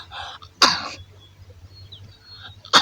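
A man gives a sharp, close cough that fades over about a third of a second, followed by quiet room tone and the start of a second cough at the end.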